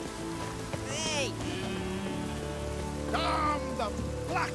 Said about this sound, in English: Maybe we needed a spot of rain. Raining fucking buckets.